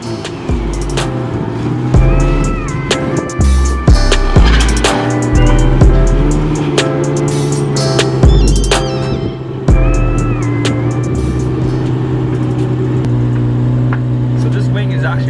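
A Nissan 350Z with a large rear wing fitted to its trunk pulls out of a garage, its engine rising and falling with revs, loud and close, while someone talks over it.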